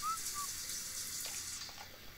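Shower water running in The Sims 4, a steady hissing spray of water, brief and even, with no voices over it.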